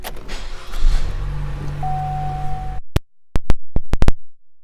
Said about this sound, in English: This LT has keyless entry, power windows, locks, mirrors